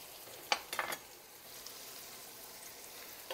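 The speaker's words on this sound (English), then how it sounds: "we're just going to do these a quick saute" Garlic sautés in a pot for a Zuppa Toscana soup, a soft steady sizzle with a few sharp scrapes and clinks from stirring near the start, close and fairly quiet, with no talk.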